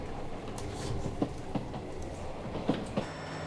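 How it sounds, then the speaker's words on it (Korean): A Gyeongjeon Line train pulls into Boseong station in Boseong, South Jeolla, with a low rolling rumble and a few sharp clacks of wheels over rail joints spaced through the passage. "명봉역을 출발한 지 10여 분 후 기차는 보성역에 도착했다."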